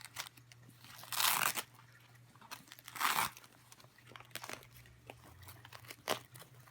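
Plastic crinkling and rustling in a few bursts, with two louder crunchy handfuls and smaller crackles between, close by, over a faint steady hum.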